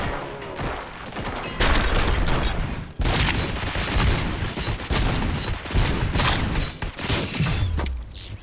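Heavy gunfire in the RoboCop: Rogue City video game, dense rapid bursts and booms with mechanical clanks, loud and continuous throughout with no talking.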